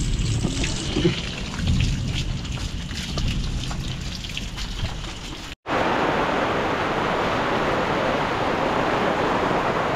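Steady rain falls at a construction layout site in Olongapo, giving a dense, continuous hiss with scattered drops. The patter keeps going throughout with no voices, and the sound changes abruptly partway through.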